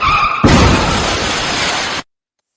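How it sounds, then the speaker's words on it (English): A loud, broadband explosion effect bursts in and then roars as a sustained rumbling blast for about a second and a half. It cuts off abruptly into silence, with no speech. "We'll give Collision a big explosion."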